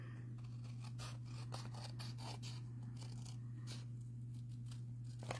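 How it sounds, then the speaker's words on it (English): Paper snips cut paper around an envelope in a series of quick, crisp snipping and crunching strokes, close and faint over a steady low electrical hum. "we're going to trim around the envelope"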